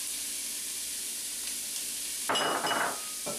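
Chopped onions, celery and carrots hit hot olive oil in a pan, setting off a sudden loud sizzle after a quiet stretch, followed by stirring clatter and a continuing crackle.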